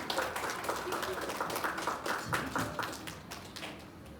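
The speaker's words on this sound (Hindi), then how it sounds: "तालियां।" Audience clapping welcomes a performer at a Japan Uttarakhand community festival stage event, moderate irregular applause with a few voices mixed in.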